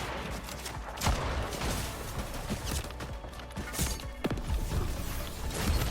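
Pistol and hunting rifle shots in Fortnite, a series of sharp cracks and impacts spaced irregularly amid constant loud game noise, with no talk over them.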